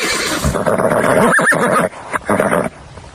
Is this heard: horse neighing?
yes